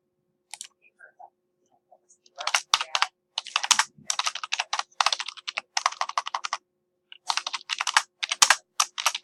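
Bursts of computer keyboard typing, rapid clustered key clicks in several runs separated by short pauses, close and clear, with no talking.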